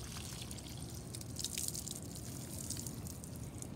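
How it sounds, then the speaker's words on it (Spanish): Water pours and drips from a container onto dry bougainvillea plants, a faint continuous splashing trickle with light droplet patter and no voices. "Agüita, bastante agua."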